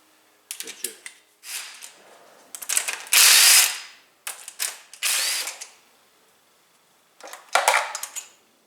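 Bursts of ratchet wrench clicking while loosening a bolt during a winter turbo, engine and gearbox service, several short rapid runs of close, sharp ratcheting separated by pauses.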